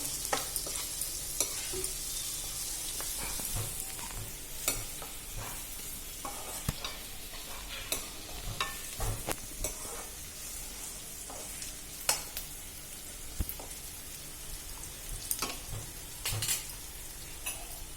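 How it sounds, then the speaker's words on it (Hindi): Green chillies fry with turmeric in a pan for a chutney, a soft continuous sizzle overlaid with frequent irregular stirring scrapes and clinks of a spoon against the metal, close by with no talking. "हल्दी डालकर मैं मिर्ची को फिर से एक बार अच्छी तरह से चला दूंगी।"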